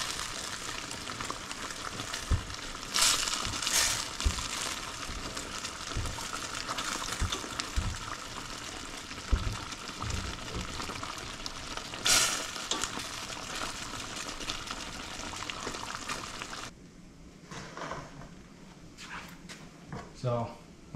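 Lobster and scallions stir-fried in a hot pan give a busy sizzle with scraping stirs and clatters throughout, close by, before the frying sound drops away near the end; a voice talks over part of it.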